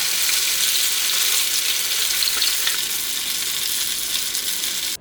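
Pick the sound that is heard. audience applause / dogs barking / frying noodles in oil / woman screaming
frying noodles in oil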